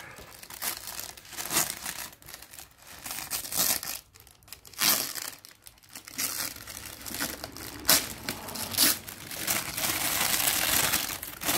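Masking paper crumpled and torn by hand while preparing a 2009 Harley-Davidson FXSTC for priming at home, a continuous close crinkling and crushing with brief pauses, loud and alone without talk.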